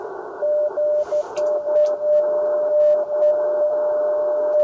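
A steady CW radio sidetone holds while the transmitter is keyed down on about 7046 kHz. The pure, continuous tone runs loud and even for several seconds, with faint radio hiss and small clicks beneath it.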